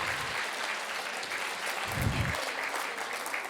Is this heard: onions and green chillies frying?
no